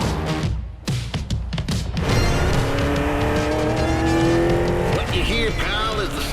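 NASCAR stock cars in The Crew Motorfest roar close by with sustained engine revving and rising pitch, loud and continuous, with a voice speaking over the engines throughout.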